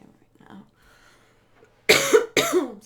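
Two sharp coughs from one person, set off by scented candle smoke, come in quick succession after a quiet stretch with faint soft sounds.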